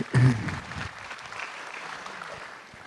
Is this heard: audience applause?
yes